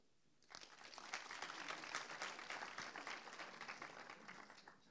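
A conference audience at a tech talk breaks into applause after a quiet moment, a dense burst of many hands clapping that holds steady and then thins slightly toward the end.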